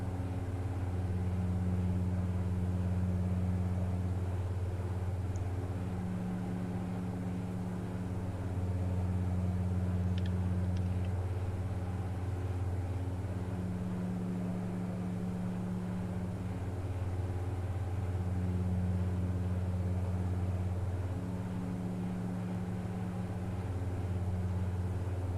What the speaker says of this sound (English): The sound of that engine a little bit gets a little overwhelming after a while.